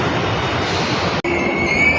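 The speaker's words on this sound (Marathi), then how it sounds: "पण मेट्रो आली" A Pune Metro train arrives at a station with a loud, steady rushing roar, a short break, then a high faint squeal of wheels on rails.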